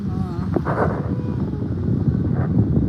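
Strong wind buffets the microphone at night, a steady loud rumble with gusting swells throughout, while voices can be heard faintly underneath.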